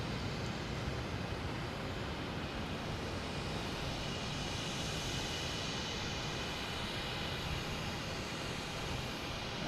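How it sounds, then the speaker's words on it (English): A JetBlue jet landing at Boston Logan from JFK makes a steady, dense roar that stays loud and even throughout, with no talk. "Let me get this JetBlue coming in"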